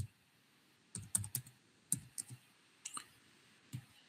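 Computer keyboard keys tapped in short irregular bursts while code is entered, with crisp clicks separated by brief pauses against a quiet room background, and no speech.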